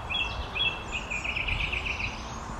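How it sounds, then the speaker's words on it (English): Birds twittering in a park lined with silver birch, a faint, distant run of thin repeated chirps over steady outdoor background noise. "The birds twittering over there."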